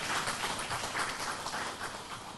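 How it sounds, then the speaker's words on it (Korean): Audience applause at a Suwon city council policy forum on social welfare workers, a steady even wash of many hands clapping at moderate level throughout, with no talk over it. "다 같이 몰아서 박수 한번 치고 시작하시죠."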